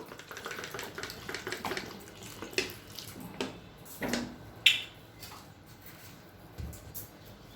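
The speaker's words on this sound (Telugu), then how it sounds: "చూడండి, నేను కొంచెం వాటర్ వేస్తున్నాను." Water poured from a vessel into a pot of broad beans for boiling, uneven splashes and trickles with a few sharper clinks, close and moderately quiet, no talking.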